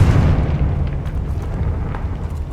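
A deep, loud rumbling blast from the Confringo blasting spell in the video game Hogwarts Legacy, starting at full force and then decaying into a sustained low roar with no talking.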